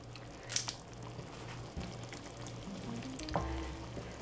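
Food cooking in a pan seasoned with mustard, paprika, salt and pepper gives a soft, steady sizzle with a few light clinks and stirring scrapes, fairly quiet and close, no talking.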